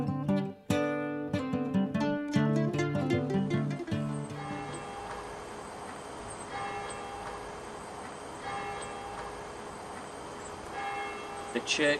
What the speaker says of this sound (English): The church bells ring